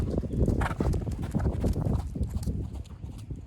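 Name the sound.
horse hooves clip-clopping during lunge lesson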